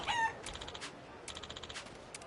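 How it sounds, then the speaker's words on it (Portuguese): A chicken in the video game Like a Dragon: Infinite Wealth clucks in quick rhythmic bursts, two short runs of clucks after a brief squawk, moderately faint with no speech. "Tem uma galinha aqui."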